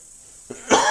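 A single short cough bursts out near the end after a quiet moment, preceded by a faint throaty catch.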